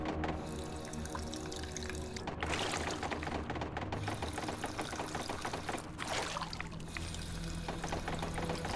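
Water being drawn at a water pump in Fallout 76 splashes and pours in quiet repeated bursts, broken by two short pauses.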